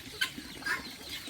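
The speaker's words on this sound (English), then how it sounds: "Hey, chicken." Chickens cluck at a rural farm in a Filipino province, with a few short, moderately faint clucks in separate bursts over quiet outdoor background.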